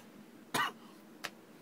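A woman doing the cinnamon challenge coughs: one sharp, harsh cough is followed by a smaller throat-clearing hack, close and alone.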